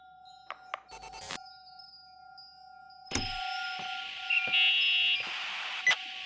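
Phone ringing inside the video game The Suicide of Rachel Foster: sharp electronic tones and buzzy rings with short bursts and pauses, clear and close, no speech.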